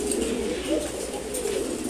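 Giribaz pigeons coo softly in a low, rounded, rolling call, close by and steady, set against faint background noise.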